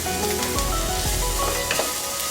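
Ginger garlic paste hits softened onions in a hot pan, setting off a steady loud sizzle with a few brief scrapes and stirs over it.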